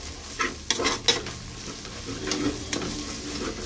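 Mutton lungs with half a teaspoon of turmeric are stirred in a frying pan, giving a steady sizzle with several sharp scrapes of the utensil against the pan, close and alone.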